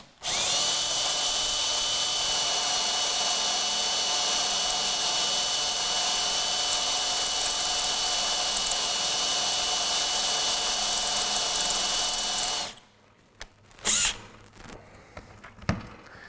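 A power drill bores into a soft steel fastener embedded in reclaimed wood, a loud continuous high whine lasting about twelve seconds, then stopping abruptly, followed by a few brief clicks and handling noises.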